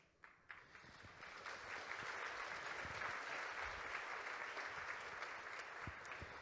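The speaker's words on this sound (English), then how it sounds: "I do appreciate that applause." Audience applause at a romance writers' conference keynote builds from a few scattered claps into a broad, sustained wash of many hands, moderately distant and steady throughout.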